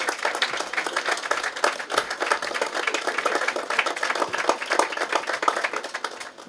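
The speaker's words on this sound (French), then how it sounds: "sous les applaudissements du public" Dense, continuous clapping from an audience at an award ceremony for a literary distinction, sustained and even throughout with no voices over it.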